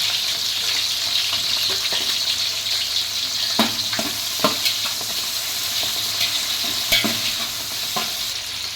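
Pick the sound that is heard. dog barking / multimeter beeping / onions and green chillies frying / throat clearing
onions and green chillies frying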